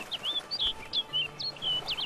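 Bird in The Witcher 3 giving quick, high chirping calls, about five short two-note phrases in steady succession over a faint ambient background.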